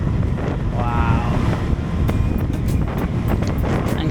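Wind buffeting the microphone during a motorbike ride along a country road past rice fields, a loud continuous roaring rush with faint higher engine and road noise mixed in.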